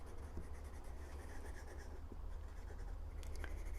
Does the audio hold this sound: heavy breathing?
no